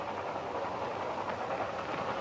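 A train rumbling along in a 1950s Western setting, a steady broadband roar and hiss with faint rhythmic clatter, continuous and moderately loud, no voices.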